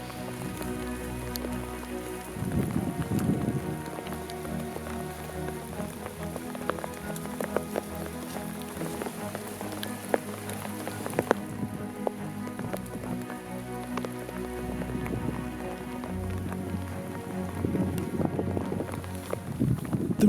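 Rain pours down steadily over an Alaskan hunting field, a constant dense patter with soft gusts and rustling, moderately loud and unbroken throughout.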